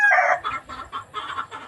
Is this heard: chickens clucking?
yes